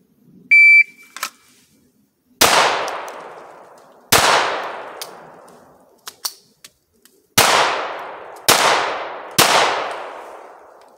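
A shot timer's electronic beep starts a string of pistol shots at steel targets: five loud, close cracks with ringing tails, unevenly spaced, interleaved with faint metallic pings from struck steel.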